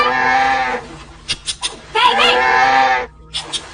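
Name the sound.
goats bleating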